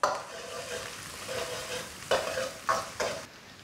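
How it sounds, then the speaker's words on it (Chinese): Ginger, scallion, garlic, dried chilies and Sichuan pepper stir-fried in a little oil in a wok, a soft continuous sizzle broken by a few sharp scraping tosses of the spatula near the end, close and without speech. "另起锅来一丁点油，下姜葱蒜干辣椒干花椒，"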